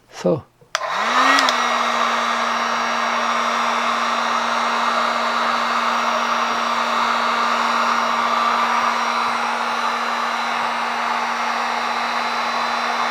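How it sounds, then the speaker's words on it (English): A heat gun blows hot air steadily at close range while warming a temperature sensor, a constant loud whoosh with a steady whine that starts abruptly and runs unbroken throughout. "I'm getting a heat gun and applying some heat here"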